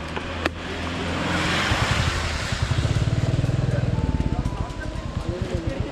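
A motorcycle rides through rain on a mountain pilgrimage route, its engine pulsing steadily and growing louder, with wind rushing over the microphone and people talking.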